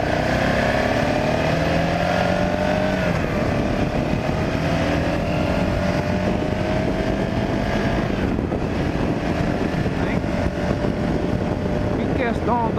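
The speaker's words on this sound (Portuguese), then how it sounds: "Em questão da vibração dessa moto." A BMW G 650 GS motorcycle engine drones while riding, steady and close with rising and falling pitch through gear changes, mixed with heavy wind rush against the microphone and a rider talking over it.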